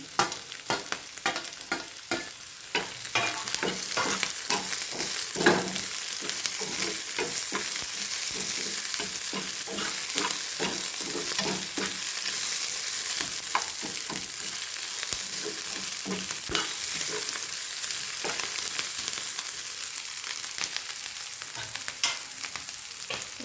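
Vegetables for Chinese noodles fry in a pan with a continuous loud sizzle. Repeated sharp scrapes and clacks of stirring run through it for a long stretch.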